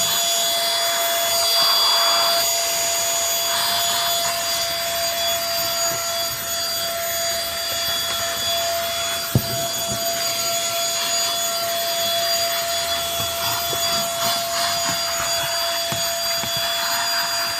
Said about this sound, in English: Nice to have a little handheld vacuum laying around.